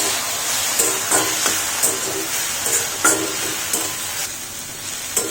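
Vegetables for a veg momo filling fry in a pan with water added little by little, giving a steady sizzle and hiss with scraping stir strokes at an even pace.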